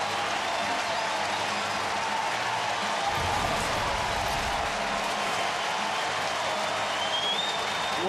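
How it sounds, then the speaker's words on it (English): Stadium crowd at a Cleveland–Cincinnati baseball game applauds and cheers Joey Votto of the Reds after his second home run, a steady roar of clapping and voices that swells midway and then holds. "Listen to the round of applause he'll get."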